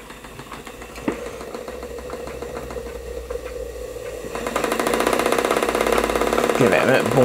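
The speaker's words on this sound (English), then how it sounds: "So there we go, steam pumping water." A model steam beam engine from an Academy water pump kit runs close by, a steady mechanical chugging and clicking that grows louder and busier partway through as more steam is given.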